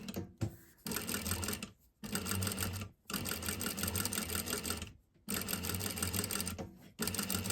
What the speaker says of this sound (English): I'm just going to do a quick basting stitch